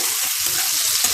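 Onion and green chili fry in a pan for a poli fish curry, giving off a steady, close sizzle with crackling spatters throughout.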